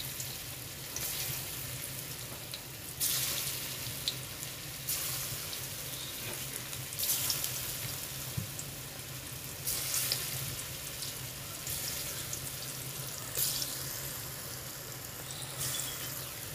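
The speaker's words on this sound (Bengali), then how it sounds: "এবার এগুলো ভেজে নেব। এইভাবে অল্প অল্প করে একটু একটু করে দিয়ে ভেজে নেব।" Raw jackfruit pakoras frying in hot oil, a dense, even crackling sizzle with periodic bright surges as small batches are dropped in, close and steady throughout.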